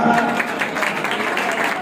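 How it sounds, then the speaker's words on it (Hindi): Audience applause at a Hindu religious discourse, the Shiv Mahapuran katha, a dense, steady patter of many hands clapping for just under two seconds. "उनके लिए ताली की सेवा कीजिए जरा"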